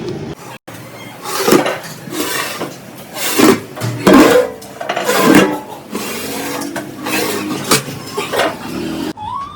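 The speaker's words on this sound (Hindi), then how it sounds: "ये बन रहा है हमारा कढ़ाई पनीर, जो दिनेश भैया की बहुत फेमस डिश है" Kadai paneer cooking in a pan at a home family celebration, with steady sizzling and repeated loud scraping and clanking of a ladle against the metal, fairly close.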